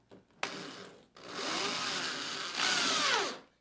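A power drill drives a screw through a door frame into a wall stud, its motor whining steadily for about three seconds with a brief pause and a rising pitch near the end, close and loud with no talking.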